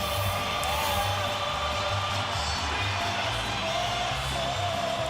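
A packed boxing arena crowd at the Pacquiao vs De La Hoya fight keeps up a constant roar and murmur, with a few faint cheers rising out of it. A voice talks over the noise.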